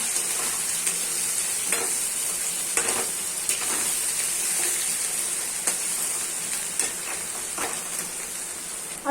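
Chicken ghee roast masala frying in a pan, a steady close sizzle broken by regular scraping strokes of a spoon stirring the paste, with no voices.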